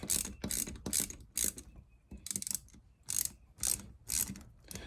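A quarter-inch ratchet working loose the capacitor on a marine alternator, giving about ten quick clicking bursts in a steady rhythm, close and crisp, with brief pauses between strokes and no talk.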